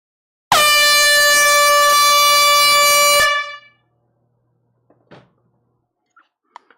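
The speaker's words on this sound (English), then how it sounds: "Folks, air horn time." One long, loud, blaring air horn blast lasting about three seconds at a live vinyl record sale, followed by a few faint knocks and clicks in near silence.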